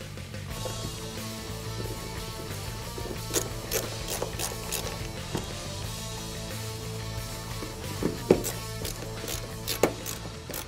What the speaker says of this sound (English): Put them up into place, then get everything started before you tighten it down.